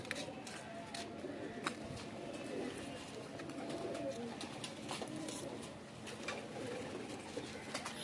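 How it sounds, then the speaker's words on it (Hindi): Pigeons coo softly and repeatedly in a quiet setting, gentle low calls with faint clicks and rustles around them, no clear talking. "ये प्योर कबूतर है।"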